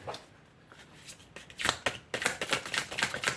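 Oracle cards are shuffled by hand close up, a quiet start building into rapid riffling flutters and repeated soft slaps of the deck.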